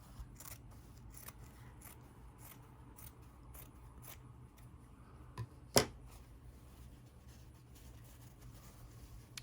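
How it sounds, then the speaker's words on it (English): Scissors snip through pieces of fabric tablecloth in quick, soft, repeated cuts, close by and quiet, with one sharper snap partway through. "I took my tablecloth and cut those pieces out"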